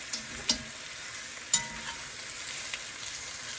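Pork browns in a pan, giving a faint, steady sizzle with a few sharp clinks of a utensil near the start and middle; no one speaks.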